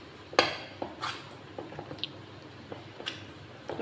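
Cauliflower pakora batter with chopped coriander being mixed in a bowl: soft wet squishes and scattered light clinks of a spoon against the bowl, irregular and fairly quiet.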